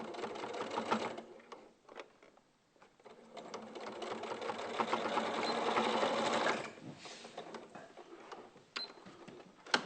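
A sewing machine runs in short bursts of stitching with pauses between as the presser foot is lifted and the fabric repositioned, the needle's rapid mechanical rattle close and clear.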